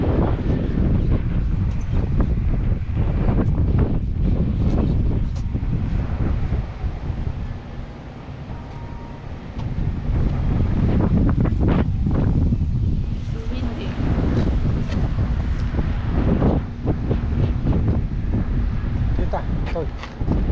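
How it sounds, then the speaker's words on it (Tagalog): Strong wind gusting outdoors near a resort and casino in Temecula, California, buffeting the microphone as a steady loud roar with brief lulls, while people talk nearby. "It's windy."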